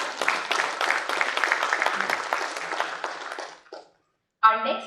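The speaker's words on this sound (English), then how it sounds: "Can we please have a round of applause" Audience applause at an SME manufacturers and exporters summit's inaugural session, a steady wash of many hands clapping for about three and a half seconds before fading out, followed by a brief voice.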